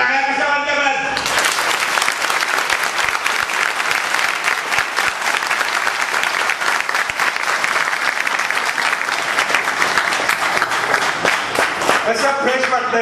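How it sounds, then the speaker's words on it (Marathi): A crowd applauds, loud, dense clapping that starts sharply after a brief voice and continues steadily until it tapers at the end. "पण टाळ्या कशा वाजल्या बघा"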